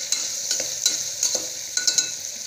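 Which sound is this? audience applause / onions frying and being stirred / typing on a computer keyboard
onions frying and being stirred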